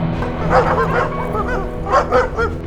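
A dog barks and yips repeatedly in quick bursts as a garage door opens, close by, with a brief pause before another cluster of sharp barks.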